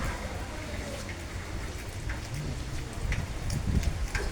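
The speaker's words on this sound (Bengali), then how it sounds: "ঠান্ডা ঠান্ডা হাওয়া চলছে, বৃষ্টি হচ্ছে আমাদের বারুইপুরে" Steady rain patters and hisses continuously on surfaces nearby in Baruipur, with a few louder drips standing out and faint voices in the background.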